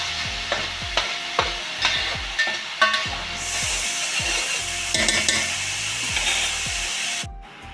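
Andhra-style fish curry is stirred in a pan, with a run of regular scraping knocks from the spoon over a constant frying sizzle, the strokes softening midway before a brief cutoff near the end.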